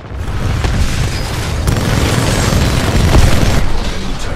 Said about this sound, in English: Enemy Titan destroyed